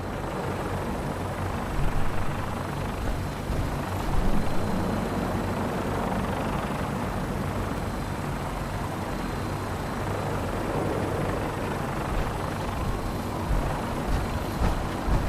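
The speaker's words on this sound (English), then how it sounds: "we have a vertibird on standby, fully armed and ready to depart" Vertibird aircraft from the video game Fallout 4 flying, a dense continuous rotor-and-engine roar filling the whole stretch at steady loudness with slight swells and no talk.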